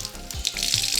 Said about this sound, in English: And then I'm gonna rinse off in cold water.